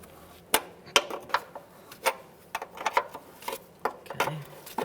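A wrench works at a brake line fitting on a 2009–2014 Nissan Maxima, producing a series of close, sharp metallic clicks and ratcheting taps at an uneven rhythm in a quiet garage.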